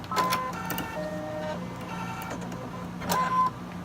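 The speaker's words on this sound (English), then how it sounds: "Let's go ahead and get this sewn." A sewing machine stitching fabric for a Halloween sew-along project, running in short whirring bursts with mechanical rattle and a high whine, starting and stopping a few times, close and moderately loud.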